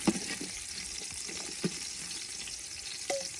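Sliced onions fry in oil until golden brown, giving a steady, moderate sizzle with a few soft spatula scrapes and one small clink near the end.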